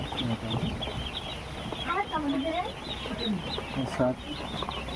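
Twelve-day-old ducklings kept for sale near a large pond give off a busy chorus of high, thin peeps and chirps that rise and fall around soft background noise, close to the listener.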